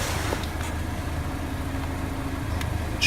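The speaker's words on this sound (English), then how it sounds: "I'm going to pop the hood here so you can listen to the engine." A 2014 Mazda 6 engine idles with the hood open, a steady low hum heard up close with no change in pitch, alone and with no voices.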